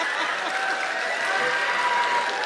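Audience at a live comedy show clapping steadily, a dense, sustained patter of many hands at moderate distance with faint chuckles mixed in.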